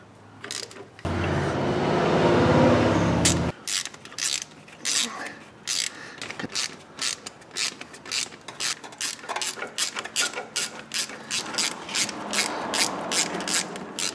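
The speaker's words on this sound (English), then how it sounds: "use a little hand ratchet like this and a wobble extension" Hand ratchet with a wobble extension working exhaust manifold bolts on a GM 4.8, 5.3 or 6.0 V8, a steady run of quick close metallic clicks following a brief louder whirring burst at the start.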